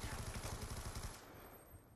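A full magazine of automatic gunfire in Black Ops 2: a rapid, evenly spaced burst of shots lasts about a second and then cuts off, leaving a faint hiss.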